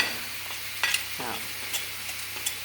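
Cinnamon and spices sauté in a pan, a quiet, steady sizzle with a few soft stirring scrapes and light clinks.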